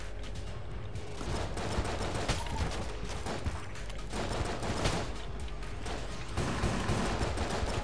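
Relentless gunfire and a grenade blast in the video game Enter the Gungeon, dense overlapping shots and bursts that run without pause, loud and close.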